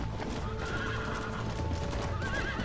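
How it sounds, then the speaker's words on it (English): A horse whinnies over a busy patter of galloping hooves in Red Dead Redemption, loud and close amid a dense background of game sound during a cattle stampede. "I rode my horse too hard."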